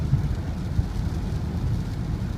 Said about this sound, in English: instead we've got heavy rain, even though it's 3 degrees Celsius